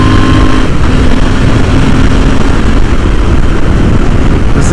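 A Royal Enfield Interceptor 650 motorcycle accelerating out of a corner on a curvy back road, its engine a loud continuous drone mixed with heavy rushing wind, no break in the sound.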